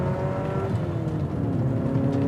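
Porsche 944 Turbo engine pulling hard under boost, its rising tone climbing through the revs in a loud, continuous surge heard from inside the car.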